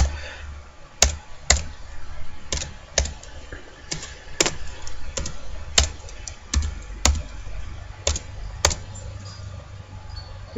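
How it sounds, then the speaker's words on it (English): Hard, deliberate keystrokes on a laptop keyboard, made as sharp separate clicks spaced irregularly about a second apart against a quiet background hum, with no voices. "Hitting the keys hard"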